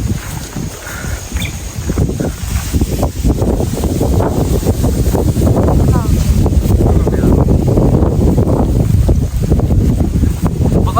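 Strong, steady wind on a mountain trail near the summit of Mt. Hibok-Hibok on Camiguin island, buffeting the microphone with loud, continuous rumbling gusts for the whole stretch.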